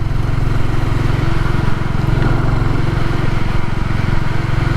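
Royal Enfield Classic 350 motorcycle being ridden near Bodmin Moor, its single-cylinder engine giving a steady, loud, close thumping drone with continuous wind rush throughout.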